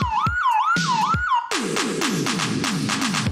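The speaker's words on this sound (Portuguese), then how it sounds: "Sabe aquela sirene que a moto de vigilância noturna faz nas ruas e tal?" A night patrol motorcycle siren wails in quick looping sweeps, first a high yelping tone then a faster, harsher warble, loud and continuous with no talk.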